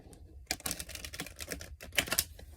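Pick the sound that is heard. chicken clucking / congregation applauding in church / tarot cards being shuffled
tarot cards being shuffled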